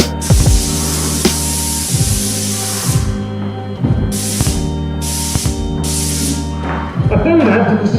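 Hissing bursts of a spray gun painting doors, several short sprays in an uneven rhythm, close and loud, with a voice talking underneath.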